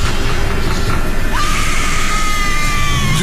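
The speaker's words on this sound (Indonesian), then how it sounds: "juga diiringi suara teriakan perempuan yang histeris, ketakutan, kesakitan" A hysterical woman screams in fear and pain in a horror story scene, one long, loud wavering cry rising out of a dense, constant rumbling background.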